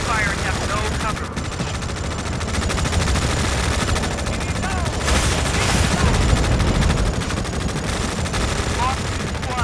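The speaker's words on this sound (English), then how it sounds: "We are taking fire and have no cover." Dense machine-gun and rifle fire rattles continuously on a battlefield in Tom Clancy's EndWar, loud and close, with radio-style voices speaking over the constant volleys.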